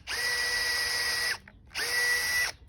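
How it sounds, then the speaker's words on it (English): Two sustained bursts of a power drill whining at high speed as it drills through wood, each about a second and a half long, separated by a short pause. Close and loud. "So I kind of just like drill through the piece of wood"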